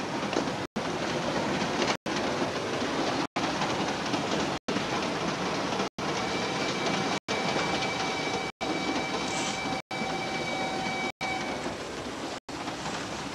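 Steady rumbling rail noise of a moving train, continuous and fairly loud, with regular short dropouts and a faint high whine running through part of it.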